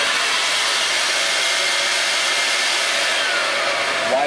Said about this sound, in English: Here we have a vacuum board, printing paper, holds everything down.